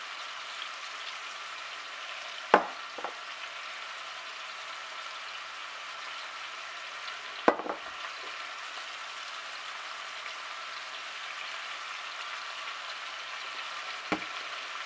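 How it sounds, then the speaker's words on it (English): Ground meat browning in a pan for Spanish rice gives a steady, quiet sizzle throughout, with a few sharp clinks of a utensil standing out now and then. "we're going to put the meat in and brown the meat"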